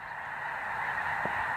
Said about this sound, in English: Those are a few thousand birds, though, folks.